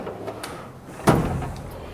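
A wrench drawer on a diesel mechanic's tool chest slides open with a single near, firm rolling clunk, followed by a short metallic rattle of tools settling.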